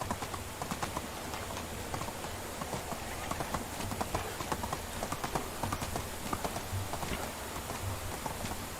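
Horse hooves clip-clop in a steady, continuous rhythm while riding in the medieval survival game Medieval Dynasty, each footfall a sharp tap, moderately loud and close.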